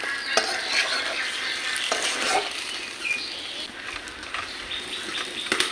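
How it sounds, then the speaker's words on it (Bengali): Mutton curry with poppy seed paste is stir-fried in a pan, steady sizzling with repeated scraping and stirring strokes throughout, close and moderately loud, with no voices. "আমি আর একটু ভালো করে কষে নেব, যেন পোস্তর কাঁচা গন্ধ না থাকে।"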